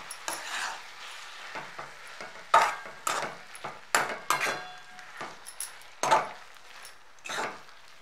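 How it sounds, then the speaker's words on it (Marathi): Hadga flower vegetable and soaked dal are stirred in a pan, a series of irregular scraping and clinking strokes of a spoon against metal over a faint sizzle, close and without speech. "आता ह्याच्यामध्ये हे भिजवलेली डाळ टाकायची, हे पण हलवून घ्यायचं सगळं व्यवस्थित"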